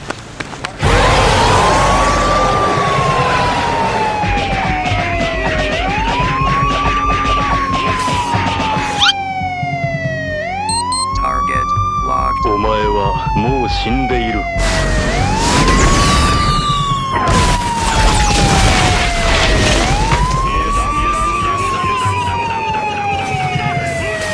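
A loud ambulance siren wails in long, repeated rising-and-falling sweeps, close and continuous, with a burst of rapid warbling tones midway and engine noise underneath.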